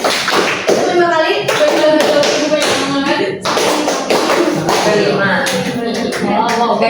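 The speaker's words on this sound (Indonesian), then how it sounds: "Tepuk 5 kali." A group of students in a classroom clap through a five-count pattern, with rapid, crisp handclaps and taps repeating close by under ongoing talk.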